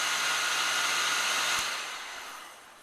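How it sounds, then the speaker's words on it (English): Heat gun shrinking heat shrink tubing over wiring on a Honda Shadow motorcycle kit install, a steady loud blowing whoosh that runs evenly and then tapers off as it is switched off. "So let's go ahead and heat shrink that on there."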